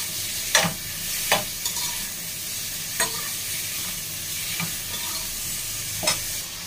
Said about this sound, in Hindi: ऑयल के साथ ही सारी वेजिटेबल्स को भी मैं प्याज और टमाटर, प्याज और चिली के साथ ही सब्जियों को भी अच्छी तरीके से फ्राई कर लूंगी